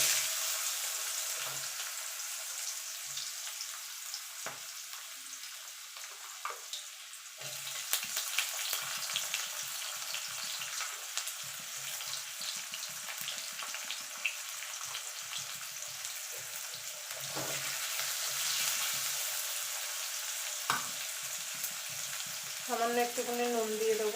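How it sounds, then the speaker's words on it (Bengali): Potatoes frying in oil in a pan, a continuous close hiss and crackle with occasional clicks and scrapes of stirring, fairly even in level over the whole stretch. "এই তেলে আলুগুলো ভেজে নেবো।"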